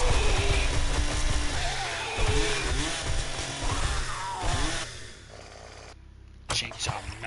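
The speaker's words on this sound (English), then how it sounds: "murder him with the chainsaw" Chainsaw attack in the survival game 7 Days to Die: a steady buzzing saw drone runs loud through most of the stretch, surging and dipping as it cuts, then cuts off near the end, with game noise and a voice around it.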